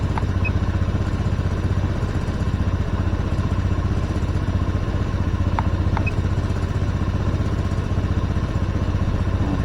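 A Honda Scoopy PGM-FI scooter with a weak ignition coil, replaced by a K25 Beat FI coil, idles steadily, a constant low engine drone with a faint click or two, heard close and alone.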